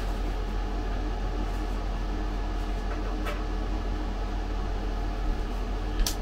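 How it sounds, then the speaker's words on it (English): A microwave oven heating pies gives off a steady, close mechanical hum with a fan-like whir, constant throughout, broken only by a couple of faint clicks. "The pies have almost had their time in the microwave, so let's go and get them out."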